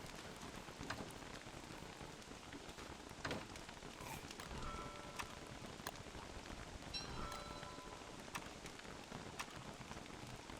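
Rain falls in the video game Don't Starve Together as a steady, faint hiss of drops that runs throughout, with a few soft taps and tones over it.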